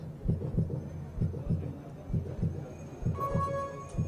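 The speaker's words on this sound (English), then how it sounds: "You can only imagine what hearing that heartbeat does to you" An amplified heartbeat at a World Cup archery mixed team gold medal shoot-off thumps in an even double-beat rhythm, steady and fairly faint.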